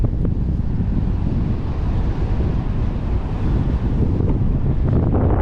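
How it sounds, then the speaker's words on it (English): Steady, loud wind buffets the microphone outdoors with a constant low rumble and no pauses. "Really cool and windy out here today."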